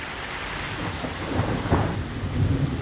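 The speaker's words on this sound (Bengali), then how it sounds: "আজকে বৃষ্টি হইতেছে, অনেক ভালো লাগতেছে আমার।" Steady rain pours down while low thunder rumbles and rolls through it, a continuous outdoor downpour with swelling deep rumbles and no voices.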